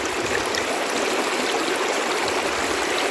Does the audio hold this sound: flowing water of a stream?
yes